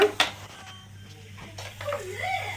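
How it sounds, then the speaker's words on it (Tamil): A wok-style kadai is set down on a stove as it is lit, giving a short metallic clank near the start, followed by quieter rattles and background noise. "முதல்ல ஒரு வடை சட்டி வச்சு அடுப்பை பற்ற வச்சுக்கோங்க"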